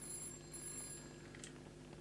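A telephone rings faintly in a horror video game, with thin, high ringing tones over a low, quiet hum.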